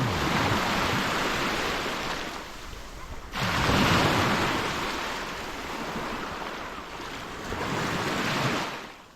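Surf washing onto a beach in Cozumel, Mexico, with broad rolling swells that rise and fall in roughly three surges, mixed with steady wind buffeting the microphone; no talking.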